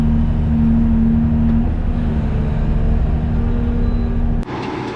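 A dump truck hauling a load of dirt from a pond build rumbles steadily with a low engine drone, loud and close, before the sound abruptly drops and shifts near the end.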